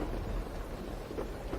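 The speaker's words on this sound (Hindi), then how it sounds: "देख कितनी तेज बारिश हो रही है।" Heavy rain pours steadily with low rumbling thunder beneath it, a dense continuous roar with no talking.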